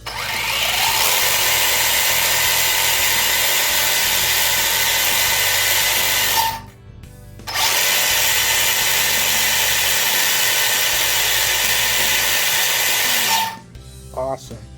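The metal drivetrain and all-metal gears of an HBX 16889A PRO RC car spin up to a loud, steady high-pitched whine, cutting out briefly at the midpoint before resuming, then stopping near the end.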